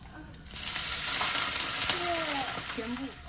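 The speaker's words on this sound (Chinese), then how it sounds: "我要倒水了。" Water poured into a hot pan while cooking purple eggplant gives a continuous fizzing sizzle of a few seconds, with a faint voice murmuring in the background.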